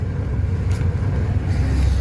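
Steady low rumble from a 1970 Buick GS with a swapped LS1 V8 running on a Holley Terminator, heard from inside the car while driving, a deep continuous drone with a couple of brief higher hisses.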